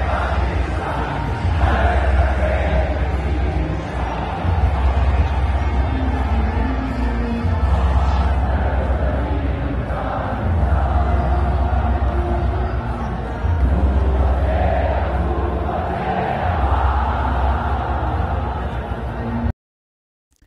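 A large political protest crowd in Pakistan, a continuous roar of many voices with rising and falling waves of massed shouting that suggest chanting, sustained for about twenty seconds before cutting off abruptly.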